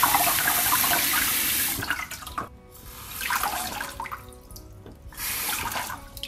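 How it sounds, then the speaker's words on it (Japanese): Water is poured in a steady, splashing stream over waterproof Workman field rain boots, stopping and restarting twice. The trickles and splatters are close and fairly loud, with no voices. "この辺に水がかかっても"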